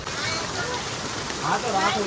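Heavy rain falls on a farm field as a steady, even hiss, with a voice talking faintly through it.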